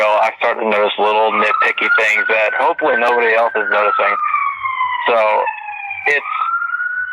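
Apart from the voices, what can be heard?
fire department emergency siren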